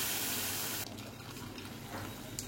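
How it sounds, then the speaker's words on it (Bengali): Cooked mung and masoor dal poured into a hot pan of sautéed spices, a sudden wet gushing splash that starts partway in and then settles into a steady bubbling sizzle, close by. "এবারে ডাল আমি ঢেলে দিলাম।"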